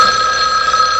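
A telephone bell rings in a loud, continuous metallic trill, close and steady throughout with no voices.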